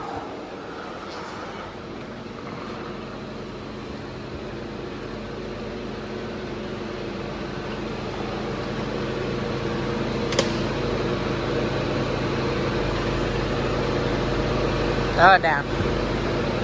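A forklift engine runs steadily on a farm, a continuous mechanical drone with a brief clatter near the end while people talk over it.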